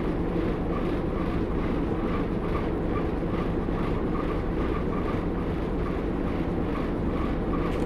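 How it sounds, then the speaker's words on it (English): Train in Train Simulator 2015 on the Great Central Railway, propelling slowly into a siding, producing a continuous, even low rumble and rolling noise throughout, with no voices. "I'm just propelling into the siding, Harrison."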